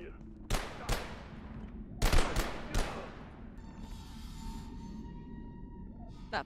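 Video game gunfire in Abiotic Factor, two early shots then a quick cluster of three or four, punchy and fairly close, followed by a quieter tonal hum and a final faint shot near the end.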